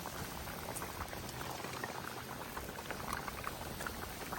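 A cauldron of pilaf bubbles and simmers vigorously, a dense, steady crackle of popping liquid close up, with no voices.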